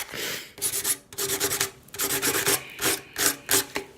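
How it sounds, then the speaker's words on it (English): Sandpaper rubs across varnished, chalk-painted wood in short, rhythmic rasping strokes, each a close, gritty scrape with brief pauses between. "the grit is coming off the sandpaper"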